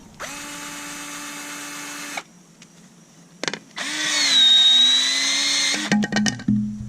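A Milwaukee cordless PVC shear cuts through ABS pipe with a loud, steady motor whine that runs about two seconds, pauses, then runs again more strained and louder before clattering to a stop, close up and without talking.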